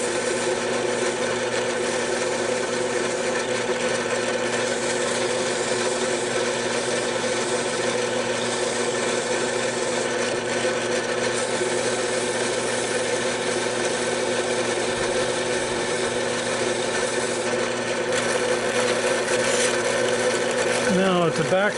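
A steady, loud whirring grind runs without a break as sandpaper works the valve seat area of a 1993 GMC Sonoma 2.5 Iron Duke engine cylinder head, shifting in pitch near the end.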